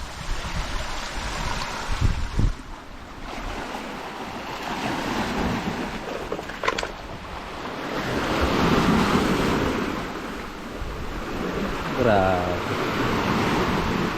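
Strong sea waves roll in and wash onto the shore, a continuous loud surf roar with heavy wind buffeting the microphone, while someone talks over it.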